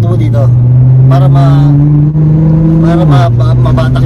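A Nissan GT-R sports car engine drones loudly from inside the cabin, its pitch climbing slowly under the rev before dropping sharply, while people talk over it.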